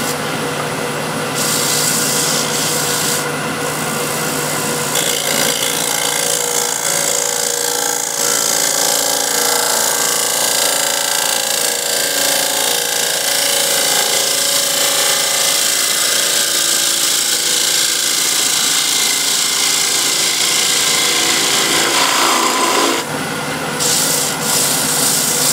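A scraper cuts the bottom of a spinning wooden bowl on a lathe. The result is a continuous loud rasping, scraping hiss with small shifts in pressure over the motor's steady drone, and no talking.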